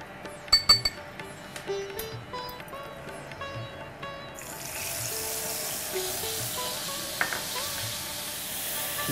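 Masala paste for potoler dom frying in a pan, a few sharp utensil clinks early, then a steady close sizzle that builds into a continuous hiss, with a voice speaking faintly now and then.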